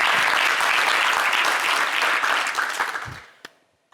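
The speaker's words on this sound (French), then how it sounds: "On va déjà applaudir pour le talent." A dense, loud burst of audience applause for a singer fills the first three seconds, then thins into a few scattered claps and fades to near silence.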